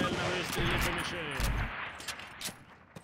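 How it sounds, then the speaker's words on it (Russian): Rifle shots fired at a shooting-range target in Call of Duty, two heavy low booms about a second apart followed by fainter sharp cracks, with a game voice speaking over the range sounds. "Теперь дважды прицельно выстрели по мишени."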